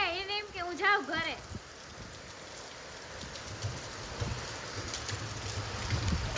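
Heavy rain with wind pours down in Rajkot, a dense steady hiss throughout, with a brief voice near the start.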